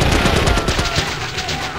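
Dense, rapid machine gun fire from a Viper wheels unit in the strategy game Warzone 2100 rattles on continuously and loudly for under two seconds, with no speech.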